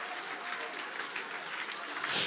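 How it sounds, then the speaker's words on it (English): Church congregation clapping hands during a lively prayer service, a dense, steady wash of many hands applauding together at moderate distance, swelling slightly louder near the end. "Those of you at the back, clap your hands and pray."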